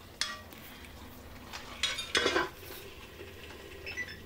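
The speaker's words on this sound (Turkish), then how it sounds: "güzelce pişirmiş olduğumuz et sotemizden bir kepçe döküyorum üzerine" Meat stew is ladled from a pot onto a dish for a Turkish hünkar beğendi. A metal ladle scrapes and clinks a few times, close and moderately loud, in a quiet kitchen.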